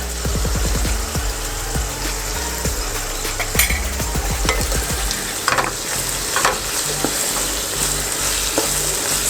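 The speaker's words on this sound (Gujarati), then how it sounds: "સરસ રીતે મિક્સ કરી લેવાનું છે ફરીથી આ શાકને આપણે ચારથી પાંચ મિનિટ મીડિયમ ફ્લેમ પર ચઢવા દેવાનું છે" Capsicum curry fries in a pan as chili, turmeric and salt are stirred in, giving a constant loud sizzle with a burst of rapid low knocking early on and scattered spatula scrapes.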